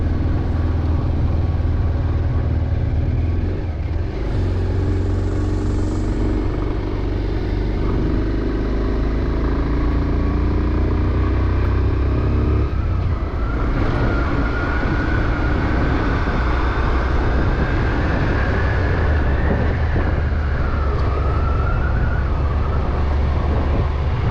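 A motorcycle rides along a deep forest road near Vattavada village outside Munnar, with a continuous low engine rumble and heavy wind buffeting throughout, its engine note rising slightly later on.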